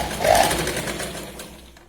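Sewing machine stitching along the edge of a plain, slippery-fabric katori blouse, one short close burst of steady motor whir that tapers off within two seconds.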